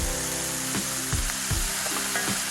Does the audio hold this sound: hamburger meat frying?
yes